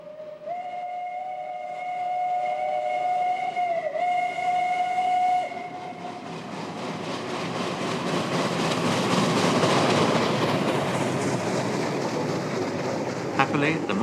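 A narrow-gauge steam train on Austria's Murtalbahn sounds a long steam whistle for several seconds. The locomotive's chuffing then builds and rolls past loudly by the River Mur at Ramingstein in winter.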